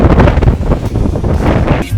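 Sea waves push water into a river mouth on the Tamil coast, with a loud, rough rush of surf mixed with heavy wind buffeting on the microphone.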